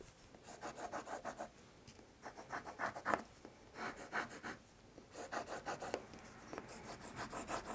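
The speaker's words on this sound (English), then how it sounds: "you can score around the edge just to kind of make it easier for this to fold." A tool scoring around the edge of a handmade Christmas paper notepad gives faint, close scratchy strokes that come in short rhythmic bursts with brief pauses between them.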